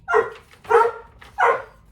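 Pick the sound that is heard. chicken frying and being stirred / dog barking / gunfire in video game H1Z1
dog barking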